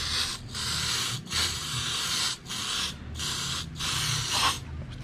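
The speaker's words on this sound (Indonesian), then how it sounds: "Harus disemprot, lap dikit lah, lap dikit biar bersih." Carburetor cleaner sprayed onto a motorcycle cylinder head from a Yamaha F1ZR being modified, loud hissing bursts repeated about six times with short pauses between, close up and alone.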